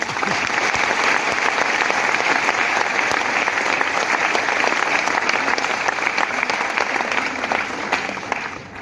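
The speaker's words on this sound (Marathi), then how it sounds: "स्वतःसाठी टाळी कशी वाजवली पाहिजे" An audience claps in a hall, dense sustained applause at close range that holds steady for the whole stretch before tapering slightly at the end.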